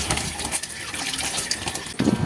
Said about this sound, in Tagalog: Pero po, babanlawan din po ito ng tubig.